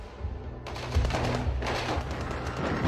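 Gunfire as a sound effect: a sudden burst of rapid automatic shots breaks in and keeps up as a dense, crackling rattle, fairly loud throughout the short stretch.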